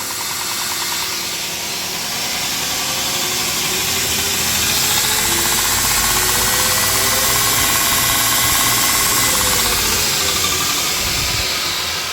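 Electric motor driven by a VFD spinning up, a steady whirring drone with a rising tone that swells in loudness and holds near full speed, loud and continuous with no talking.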